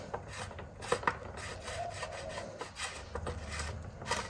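Metal bottom bracket cup being threaded by hand into a bicycle frame for a Trifox X16 build, giving a steady close rasping, grinding rub with a few small clicks and no talking.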